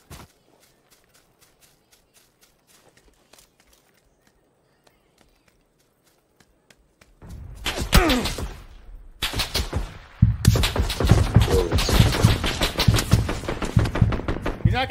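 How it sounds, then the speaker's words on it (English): SKS rifle fire in PUBG sounds as a few faint distant cracks, then bursts of loud, close, rapid shots with heavy low-end rumble dominate the second half, separated by a brief lull. "You're not gonna hit me with an SKS shooting me like that"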